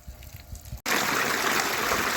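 Water pouring from a motor-driven farm pump in Punjab: after a brief quieter moment and a sudden cutoff, a loud, steady rushing gush of flowing water fills the rest, close and continuous.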